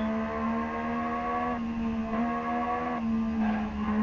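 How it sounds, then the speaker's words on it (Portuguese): A Yamaha MT-09 motorcycle engine in the racing game RIDE holds a steady, droning buzz whose pitch wavers and dips slightly, heard alone at moderate volume. "Só que o barulho da MT dele é bem diferente."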